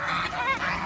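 Farm geese honk in a quick, close burst of a couple of nasal calls.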